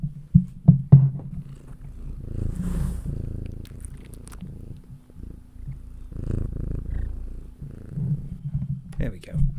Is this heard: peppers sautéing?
no